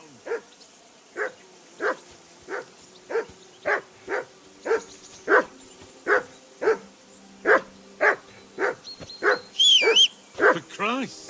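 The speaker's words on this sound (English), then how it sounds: "I assume you can hear that damn dog of yours barking." A dog in the video game Kingdom Come: Deliverance 2 barks repeatedly in a steady rhythm, about sixteen sharp, fairly close barks with a faint tonal hum beneath and a brief higher sound near the end.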